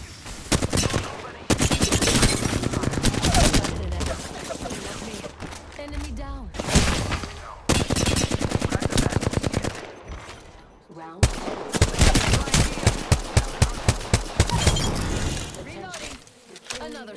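Video game gunfire: rapid, loud bursts of automatic shots in long dense runs broken by short pauses, with glassy breaking noises and voices talking between the volleys.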